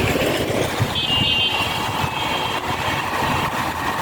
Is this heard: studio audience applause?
no